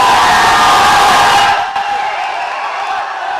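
A theatre audience at a Malayalam film screening roars with loud cheering and shouting that drops a little halfway through, leaving a sustained crowd din.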